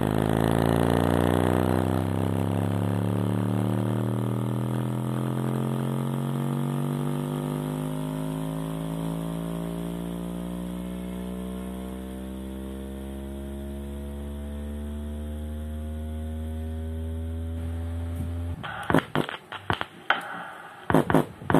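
A low-frequency tone from an audio generator passes through a passive subwoofer crossover filter and plays as a steady humming drone that glides slowly in pitch, ending in a few abrupt clicks and bumps.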